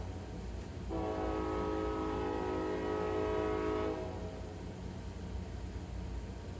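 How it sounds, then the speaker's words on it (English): A train horn sounds one long, steady blast lasting about three seconds over the constant rumble of a passing train, heard from some distance. "There's the train."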